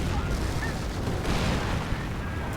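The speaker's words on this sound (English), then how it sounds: "Mines going off, killing quite a few Panzer Grenadiers" Mines detonate in a WWII strategy video game, taking out Panzer Grenadiers amid battle noise: a dense, rumbling wash of booms and gunfire that runs continuously, with a brief sharper crack near the end.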